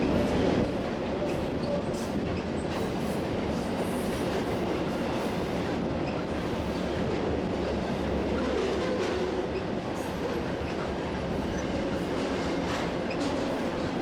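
A long Union Pacific container freight train rolls by steadily, with continuous rumble and rhythmic clattering of wheels over rail joints throughout.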